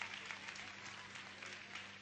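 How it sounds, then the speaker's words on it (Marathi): Audience applause in a hall at an arangetram dance recital ceremony, a steady dense patter of many hands clapping, moderately distant and even throughout. "कृपया प्रेक्षकांनी जोरात टाळ्या वाजवाव्यात"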